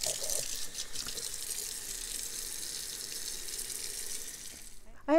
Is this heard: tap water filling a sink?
yes